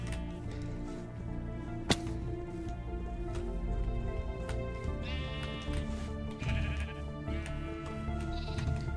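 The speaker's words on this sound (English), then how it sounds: "Have we got a baby sheep there?" Baby sheep bleating in Minecraft survival gameplay, a few short game bleats standing out over steady layered game sounds and background music, no talk.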